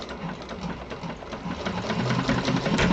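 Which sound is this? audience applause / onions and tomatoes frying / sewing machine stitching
sewing machine stitching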